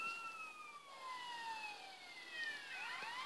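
Several police sirens wail in GTA San Andreas, their tones sweeping down and crossing one another at moderate loudness during a wanted-level chase, with no talk over them.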